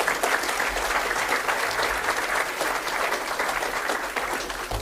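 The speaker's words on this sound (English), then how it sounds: "I think actually a big round of applause for everyone on that" Sustained applause from an audience at a community radio awards ceremony, dense and steady throughout, filling the room at close range with no voices standing out.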